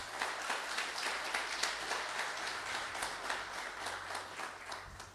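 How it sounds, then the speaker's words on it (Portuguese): A church congregation applauds at an evening service, a continuous wash of many hands clapping at moderate loudness, steady and unbroken with slight swells in intensity. "Vamos aplaudir bem forte a Jesus."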